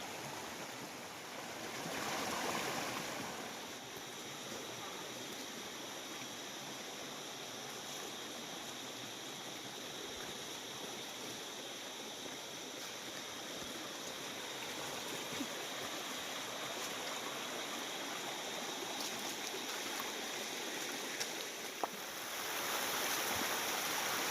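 Clear water flows steadily along a forest stream beside a cave, a constant close broadband rush with no pauses and no talk.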